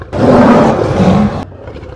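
A liger, a huge lion-tiger hybrid weighing nearly a ton, lets out a single loud, close roar lasting about a second and a half before cutting off into quiet.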